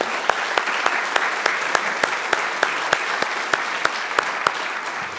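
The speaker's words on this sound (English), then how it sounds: "join me in a round of applause for Steve Brock" An audience at an afternoon keynote gives a round of applause, dense continuous clapping at an even level throughout, with a few sharper individual claps standing out.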